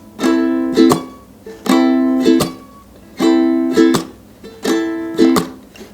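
A ukulele is strummed in a down, up, chuck pattern. Bright chord strums alternate with short muted percussive chucks, repeating evenly four times at close range with no voices.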